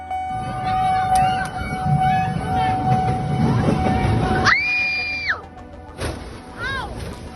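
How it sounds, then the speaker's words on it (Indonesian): A KRL JR205 commuter train on the Bogor Line crashes into a Nissan Livina: loud rumbling with a shrill horn blast midway and a shorter horn call near the end, over steady mechanical roar. "KRL menabrak bagian depan mobil dengan keras"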